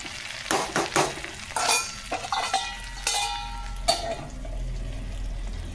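Green chilies and coriander sizzling in a pan for tomato pickle, stirred with irregular scraping strokes against the pan over a soft frying hiss and a low steady hum.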